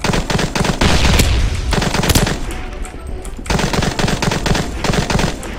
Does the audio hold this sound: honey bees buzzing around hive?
no